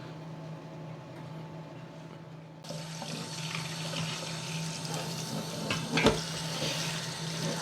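Tap water running onto cooked orange peels in a sink for draining and cooling, starting as a soft trickle then opening into a steady close rush with a brief splash near the end.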